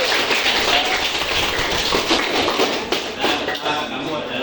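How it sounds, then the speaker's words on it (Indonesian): A class of students claps hands for a classmate, a continuous, fairly loud patter of many hands filling the room without pause. "Tepuk tangan untuk Zuki"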